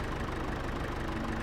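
A John Deere 710 tractor in Farming Simulator 22 hums at idle, a steady, even, low engine drone with no other sounds.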